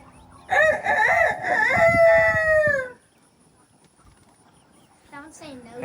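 A person imitates a rooster, giving one long, loud crow to provoke a flock of chickens. A quiet pause follows, then a faint voice near the end.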